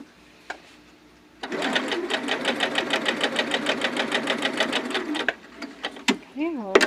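A sewing machine runs a steady 3.5-length stitch for about four seconds, a fast, evenly pulsing mechanical chatter that starts and stops cleanly, with a brief voice near the end.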